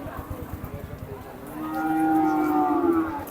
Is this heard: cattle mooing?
yes